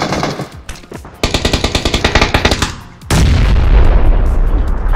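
Gunfire and a heavy, booming blast in a PUBG match: a burst of rapid shots cuts off, then a loud sustained rumble takes over, with no talk.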